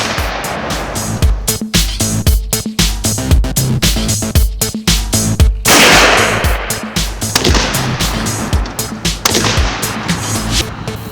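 Rifle fire at a marksmanship training range in New Jersey, a loud, dense run of sharp cracks and booms that comes fast and overlaps, with no pause between shots.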